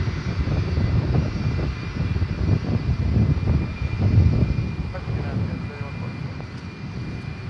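Boeing 757 jet airliners at DFW Airport at night, a steady broad engine roar rumbling continuously with faint voices and radio chatter mixed beneath.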